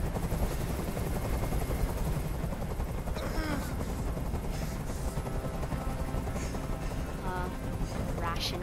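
A helicopter's steady rotor drone fills the scene continuously in Detroit: Become Human, with bursts of gunfire and faint voices breaking through now and then.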